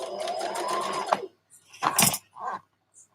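A sewing machine stitching a dress runs in a fast, even whir for about a second, then stops, followed by a few scattered clicks and handling knocks nearby.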